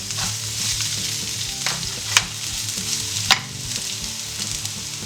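Spring onion sizzles in a frying pan with chopped garlic, a steady, bright hiss broken by two sharp utensil clicks against the pan.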